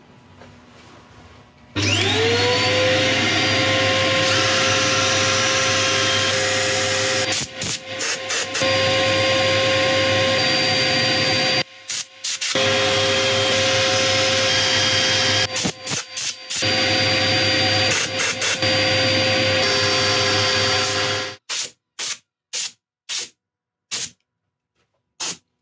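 Sanding monkey puzzle wood turning on a lathe: a loud, steady whirring hiss with a faint whine, broken by short cuts and gaps, then ending in several rapid on-off bursts.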